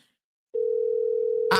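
A telephone line on a call-in radio board emits a steady, sustained tone that starts after a moment of silence and holds evenly, ending with a brief click of noise.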